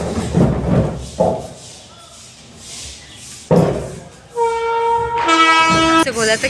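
A freight train rolls along a railway track close by, with heavy rumbling and a few loud thuds, then a long, loud horn blast sounds near the end.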